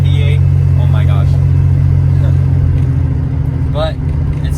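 A 1965 Ford Mustang with an inline-six 200 cubic inch engine and newly installed headers idling nearby, a loud, steady, deep exhaust rumble with an even throb throughout. Faint voices are heard briefly over the engine.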